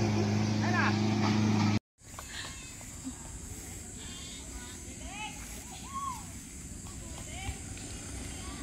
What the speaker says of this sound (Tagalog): Lakas ng Tora-Tora ni tatay.